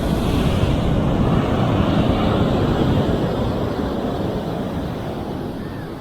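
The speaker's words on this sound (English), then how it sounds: "These waves are even bigger than Sayulita" Big ocean waves roar onto a Mexican beach in a continuous, loud, broad rush that fades slightly toward the end, with wind buffeting the microphone and no voices.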